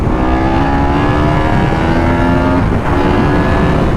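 A Ducati 916 SPS sportbike being ridden, its engine a loud steady drone with harmonic tones that dip briefly as the revs shift, heavy wind rush throughout.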